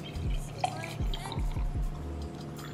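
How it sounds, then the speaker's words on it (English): Spring water is poured into a bowl of okra, giving a run of soft, rhythmic splashing and dripping glugs, close by and moderately loud, with faint background sound. "And I'm just gonna add spring water."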